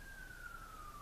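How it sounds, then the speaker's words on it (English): A faint, distant siren holds a single slowly falling tone, steady and thin over low background noise. "Yes, that is a siren in the background."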